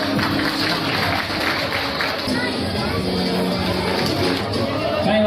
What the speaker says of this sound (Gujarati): જોરદાર તાળીઓથી આપણે વધાવી લઈએ.